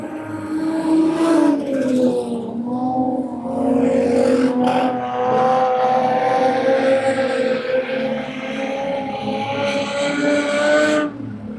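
Race cars roar past on a short-track oval during a race, engines loud and close with rising and falling whines layered across the whole stretch, an announcer-free wash of several machines at speed.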